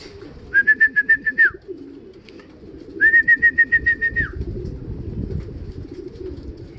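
After landing on a roof during a racing pigeon derby, a pigeon gives two clear, close call phrases, each a rapid pulsing run of about a second, over a low background rumble.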